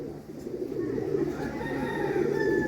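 Kalsira pigeons coo and murmur nearby in a steady, overlapping burble, with faint background noise.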